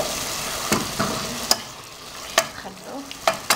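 Eggplant slices sizzling in hot oil in a pan, a steady frying hiss broken by several sharp clatters and scrapes as pieces are added and stirred, fairly close with no talking.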